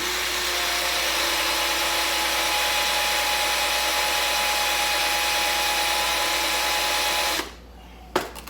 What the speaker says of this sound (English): use my drill presses